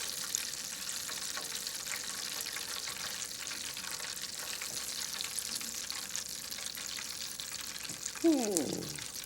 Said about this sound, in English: this grease makes all that noise